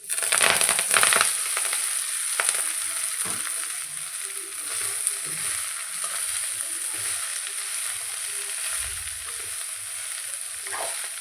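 Chopped spinach is stirred into garlic frying in a pan over low heat, giving a steady close sizzle with scraping and crushing stir noises, louder at the start, with no talk.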